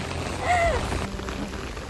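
Heavy rain pours steadily during a mountain hike on a Hong Kong trail, a dense close hiss that runs through the whole short stretch with no talking.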